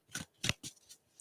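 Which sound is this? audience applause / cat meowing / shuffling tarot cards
shuffling tarot cards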